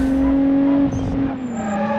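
A car in the BeamNG driving game brakes hard into a corner with tiny rear brakes, its tires squealing in a sustained high whine over steady engine drone that falls in pitch as the car slows.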